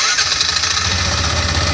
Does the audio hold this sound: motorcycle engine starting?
yes